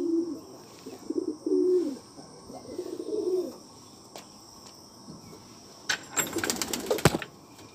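Pigeons cooing in a pigeon house in rural Bangladesh in the morning, with several soft, low, close calls in the first half, crickets chirring behind, and a brief burst of handling noise near the end.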